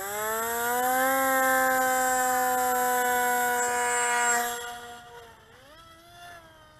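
The electric motor of an FMS FHX-800 trainer RC airplane spins up into a loud, steady high-pitched whine with layered harmonic tones, then winds down and drops in pitch with a brief wavering rise near the end.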